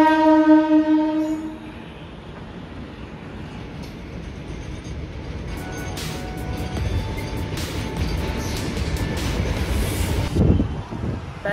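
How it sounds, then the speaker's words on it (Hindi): Train in Kolkata arriving suddenly and rolling past close by on the tracks, opening with a loud sustained horn blast, then a rising rumble and clatter of wagons that swells toward the end, with no talk. "ये वाली ट्रेन एकदम अचानक से आई है, पता भी नहीं चला भाई"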